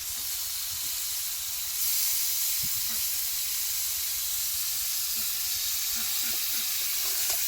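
Chicken pieces sizzle in hot oil in a pan while being cooked for biryani, a steady close frying hiss with occasional soft pops and a brief louder burst early on.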